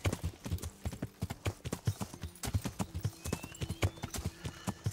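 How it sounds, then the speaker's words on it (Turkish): Hooves of an Arabian stallion clip-clop in a steady, brisk rhythm inside the medieval game Kingdom Come: Deliverance, close and distinct, with a brief soft whinny-like tone partway through and no talking. "Arap atı, Arap aygırı."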